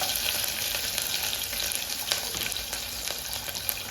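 Chopped green chillies are dropped into hot oil already holding mustard seeds, cumin and dried red chillies for dal pulao, giving a steady loud close sizzle with faint crackles and light stirring taps and no talk.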